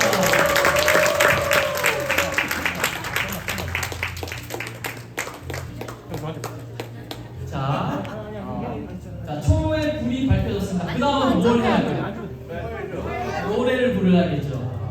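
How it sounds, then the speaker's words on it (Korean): Guests clap at a first birthday party as candles are lit on the cake, with clapping mixed under lively talk and voices, then chatter and laughter continuing as the applause dies down. "박수 한번 부탁드리겠습니다."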